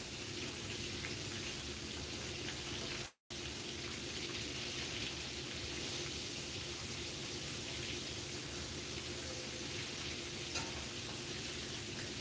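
Whiting fillets in a gluten-free cornbread coating fry in hot oil, giving a steady, even sizzle and crackle throughout, broken only by a brief dropout near the start, with no talking.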